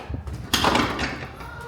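A door at the Franklin Mills Mall, reported out of order, opens or closes with a sudden broad whoosh about halfway through, then a steady rushing noise carries on to the end.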